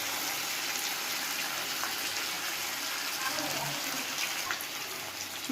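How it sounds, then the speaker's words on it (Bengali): Water pouring into a pot of browned, sautéed chicken as a curry cooks, a steady close rushing gush that fills the whole moment with a faint background sizzle. "জল দিয়ে দেবো।"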